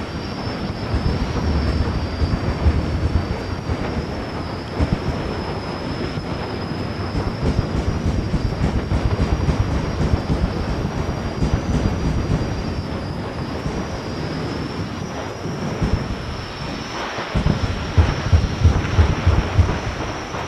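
A jet dragster's turbine engine roars at a Saturday night nitro drag race at Famoso Raceway, a loud, continuous broadband rumble with a steady high whine running through it for the full stretch.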